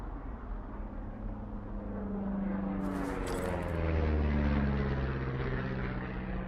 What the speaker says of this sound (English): You see that plane?